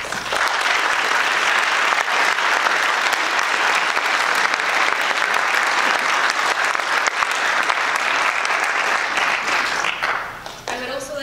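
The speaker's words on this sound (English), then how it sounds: "let's give him a round of applause" Sustained loud audience applause at a forum lecture, steady dense clapping from a large crowd for about ten seconds before tapering off, with voices faintly mixed in.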